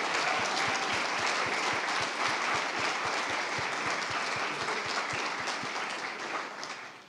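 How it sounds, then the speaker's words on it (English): An audience claps for the presenters at a startup demo day, a dense sustained round of applause that holds steady and then begins to fade near the end. "let's give another round of applause for all the presenters"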